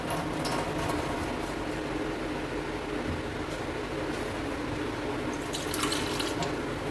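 Water pours steadily into a cooking pot holding grated coconut, a continuous close splashing flow with faint clinks near the end.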